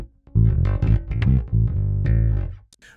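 Clean bass guitar tone through a Palmer Pocket Bass DI: a short phrase of round, warm low notes played one after another, close and clear with no effects or talk.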